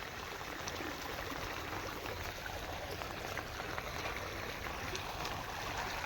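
Strong floodwater rushes steadily past outdoors, a broad continuous wash of flowing water with no talk over it.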